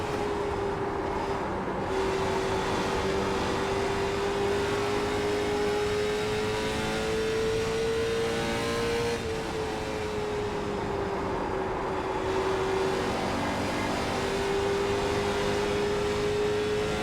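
A race car engine drones steadily on the Richmond circuit during an LMSC Open race, a continuous loud whine that rises and dips slightly in pitch, with no talk.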